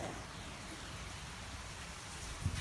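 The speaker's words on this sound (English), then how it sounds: "there's so much rain" Heavy rain falls steadily outside as a continuous broadband hiss, with a brief louder knock near the end.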